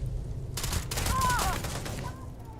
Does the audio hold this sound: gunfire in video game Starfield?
yes